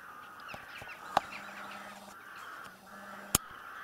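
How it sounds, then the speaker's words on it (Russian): A skein of geese passes overhead in rural autumn countryside, honking faintly and at a distance in repeated calls, with a few sharp clicks nearby and no talking. "И клин гусей летят, кричат."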